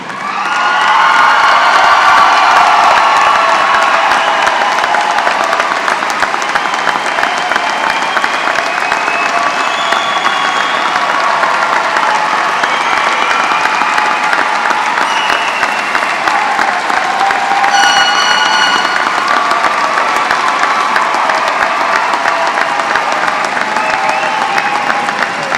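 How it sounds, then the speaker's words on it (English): Sustained applause from a large audience at a high school graduation ceremony, loud and steady throughout, with scattered cheers and whoops rising above the clapping. "give a round of applause to our class of 2024"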